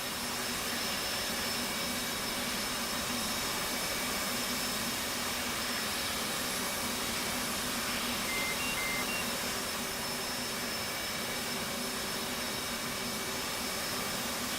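A jet engine idles steadily in the DCS World flight sim, with the right engine running and generator power on: a constant, even whine and hiss with faint tonal hums, unbroken throughout and no voices.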